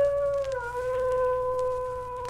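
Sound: wolf-like howling

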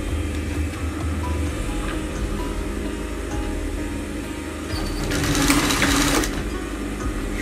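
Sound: sewing machine stitching corners of handmade bag

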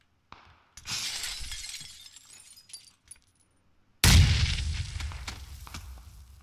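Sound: grenade explosion in a video game

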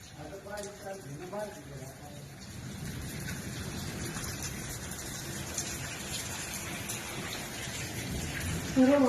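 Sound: rain after a heavy hailstorm in Haryana

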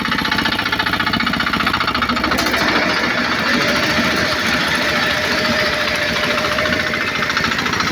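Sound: homemade automatic bean thresher running

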